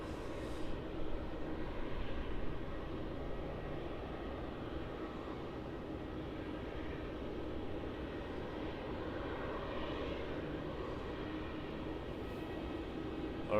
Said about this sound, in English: 737 Qantas flight 605 arriving in from Brisbane.